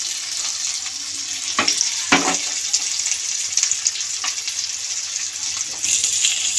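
Chicken sutli kebabs fry in melted butter with a steady close sizzle, broken by a few brief scraping stirs and bubbling pops, no voices present.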